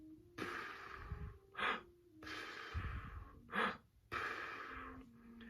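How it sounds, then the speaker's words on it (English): Three slow, deliberate breaths drawn in through an open mouth with a breathy "ha" shape, a trumpet breathing exercise, each broad airy inhale separated by shorter exhales, close and fairly quiet with no talking. "let's breathe in saying ha"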